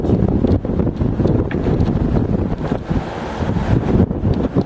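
Heavy coastal wind near a blowhole roars and thumps against the microphone continuously, with no voices, just a loud gusty rush throughout.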